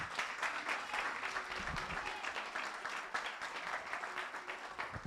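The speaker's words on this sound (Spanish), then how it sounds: "Y puedes darle un fuerte aplauso al Señor" A church congregation at a Baptist service breaks into steady applause after a prayer, a dense wash of many hands clapping at an even level throughout, with faint voices mixed underneath.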